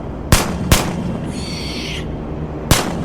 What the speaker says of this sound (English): At the sound of gunfire